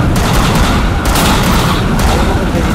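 Gunfire in the Free Fire battle royale game: dense, loud bursts of automatic fire with sharp repeated shots stand out over a constant noisy game background.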